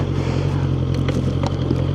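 A QJMOTOR SRK600RS motorcycle engine braking while riding gives a steady, close, low engine drone with light mechanical clatter over about two seconds.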